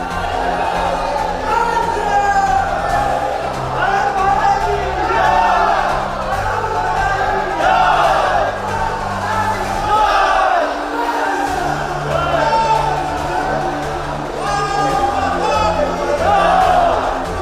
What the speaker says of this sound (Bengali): এবার রাজ্য সচিবালয় নবান্ন জয় শ্রীরাম ধ্বনিতে মুখর হয়ে উঠল।